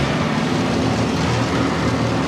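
Allis Chalmers Model D tractor engine revving at wide open throttle, a steady loud droning roar with a low throbbing hum, continuous and close.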